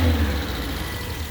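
A 1993 CMC Veryca Japanese kei micro van with a roughly 1100 cc four-cylinder Mitsubishi engine, heard from inside as a steady, loud mid-pitched engine drone under acceleration, with a slight dip after the first moment.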